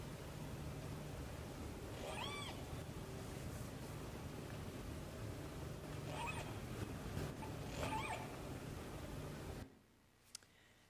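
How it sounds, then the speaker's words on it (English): Whales recorded underwater by a hydrophone give three separate rising, whistle-like tonal calls over a constant murky rumble of ocean noise, which drops away near the end. "And the whales are closer to our hydrophone here."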